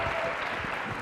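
Audience applause at a student pride event, a short burst of steady clapping from a crowd, moderately loud and uninterrupted.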